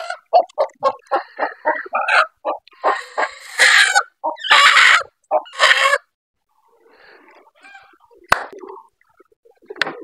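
A brooding hen sitting on eggs clucks close by in a rapid series of short, sharp calls, followed by a few louder squawks, then quiet with faint rustling.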